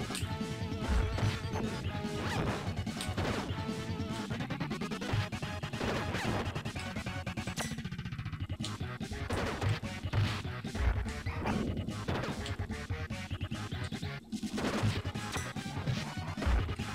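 Repeated smashing hits and crashes from the Turtles in Time beat-'em-up as enemies are struck and thrown, dense and continuous over game music, loud throughout.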